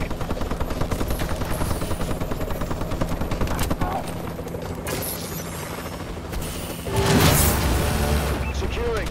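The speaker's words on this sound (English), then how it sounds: "Warbird decloak sequence activated." Warbird gunship decloaking in Call of Duty: Advanced Warfare, a loud, continuous whirring engine drone with rapid gunfire crackling over it and a sharp swell near the end. A game announcer voice speaks over it.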